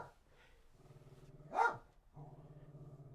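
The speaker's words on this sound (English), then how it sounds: "There's some dogs." A couple of dogs barking outdoors, heard from nearby as one sharp, loud bark or short burst stands out over a low steady hum of background noise.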